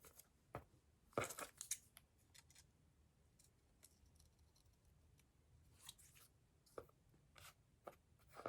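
Scissors snip in short, crisp bursts while trimming a handmade elf ornament piece, with quiet gaps between the close, faint cuts.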